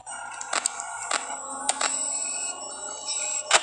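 Freddy's tinkling music-box tune in the horror game Five Nights at Freddy's, a thin high chiming melody playing steadily with sharp clicks cutting in, no talking over it.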